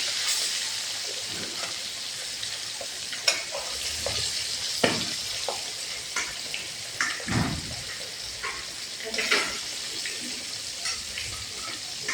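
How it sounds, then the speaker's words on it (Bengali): Rupchanda fish fries in hot oil in a home kitchen, giving a steady close sizzle broken by sharp spits, pops and the odd scrape of stirring, with no talking. "আর তেল গরম হয়ে গেছে, মাছ দিয়ে দিব।"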